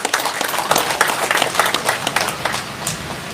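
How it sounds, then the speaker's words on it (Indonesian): Audience applause at a ceremony where an award is presented to the Governor of Riau: many hands clap in a lively, continuous burst with sharp individual claps standing out, no talking. "Boleh kita beri tepuk tangan?"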